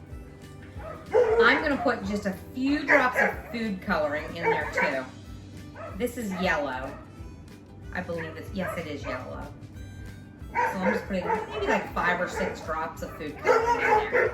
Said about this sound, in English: Again, I apologize about my dogs barking.